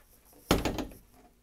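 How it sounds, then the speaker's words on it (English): A door being pushed shut and reset after a fire alarm system test, a single solid thunk with a short rattling follow-through, close by and alone. "So we'll get the door ready to reset."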